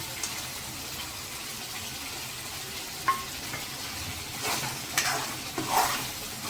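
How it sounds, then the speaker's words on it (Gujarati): Cashews simmer in a garlic curry gravy as a spoon stirs the pan, giving a faint steady bubbling sizzle broken by a few soft scraping clinks near the end, with no talking. "હવે ગ્રેવીમાં કાજુ નાખી દઈશું જેથી કરીને કાજુ પણ સરસ પાકી જાય"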